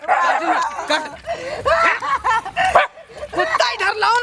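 A dog barks a few times close by in an Indian village scene, mixed in with loud overlapping voices and laughter.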